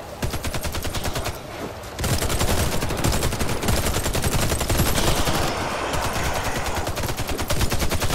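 Gunfire from the zombie mode of the shooter game Warface rattles in loud, rapid, continuous bursts, with a short dip before the volley resumes at full intensity.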